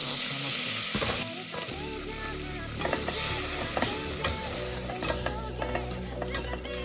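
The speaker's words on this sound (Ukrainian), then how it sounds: "Нам для цього треба борошно прогріти з вершковим маслом." Flour and butter cooking in a pan as the base for béchamel sauce, giving a steady sizzle with intermittent stirring scrapes and clicks close by, and no talking.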